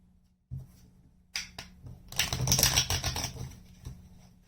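Tarot cards shuffled by hand in a quiet room, riffling in short bursts that build into a dense flurry of crisp paper flutter before trailing off, close and fairly soft.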